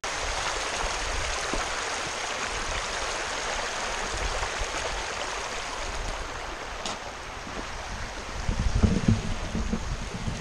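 Steady rush of a shallow river in Iceland flowing around a person wading across in ankle-high waterproof boots, with a brief low sloshing burst near the end.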